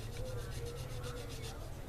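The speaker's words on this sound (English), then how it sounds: "I'm going to use my bigger sanding stick" A sanding stick rubs back and forth along the edge of plastic wheels on a Monogram Panzer IV model tank, a faint, rhythmic scratchy rasp repeating in quick strokes over a low hum.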